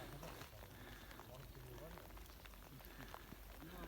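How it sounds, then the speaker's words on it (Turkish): Steady rain patters and hisses on a surface beside a lake, a soft continuous wash of drops with no break, faint and close. "Yağışlı bir hava. Yağmur yağıyor."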